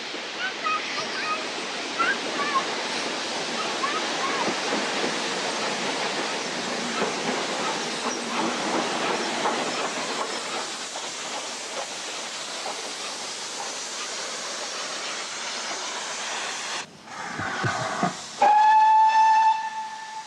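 Steady loud hissing of a steam locomotive, 2-8-0 No. 2857 built in 1918, builds and rumbles for a long stretch as it leaves Arley station on the Severn Valley Railway, ending with a sharp, piercing steam whistle blast.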